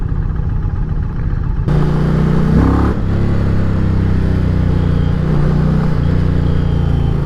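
An Indian Challenger, a big heavy motorcycle, accelerating hard: a loud, close engine roar that jumps sharply in level after a quieter start and then holds steady to the end, with no talk.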